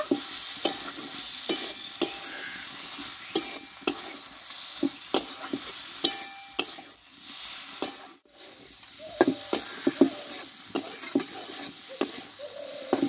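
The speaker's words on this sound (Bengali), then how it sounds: "এবার এখানে কষে রাখা আমি ঢেঁড়সগুলোকে দিয়ে দেবো। এই মশলার সঙ্গে আমি আবারও কিছুক্ষণ নাড়াচাড়া করে নেব।" Okra stirred into a spice paste in a pan, sizzling steadily while a spatula scrapes and clinks against the metal in a quick irregular rhythm, close and fairly loud, with a brief lull midway and no talking.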